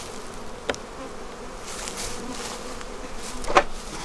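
Honey bees buzz around an open beehive in close, continuous droning, and single insects whine briefly past the microphone. No one speaks.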